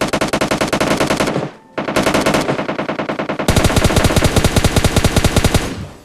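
Rapid automatic gunfire in the mobile battle royale game PUBG Mobile Lite, loud and close, in sustained bursts of evenly spaced shots with a brief pause before a longer, denser volley.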